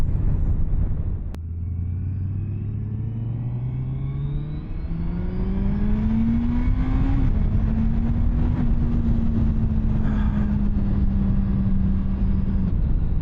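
A 2024 Suzuki Hayabusa motorcycle engine while riding, pulling up through gears with rising revs, a brief dip at a shift, then holding a steady drone, close and loud with wind rumble and no talking.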